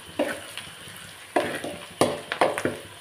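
Dry red chilies and curry leaves fry in hot oil for pepper rice, a steady close sizzle broken by several sharp spatters and the scrape of a spoon stirring.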